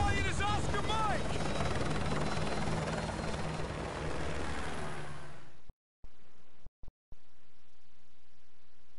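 A helicopter in the Call of Duty Modern Warfare 2 video game roars loud and close with a dense rotor wash that drops out abruptly near the end, leaving brief gaps of quiet ambience.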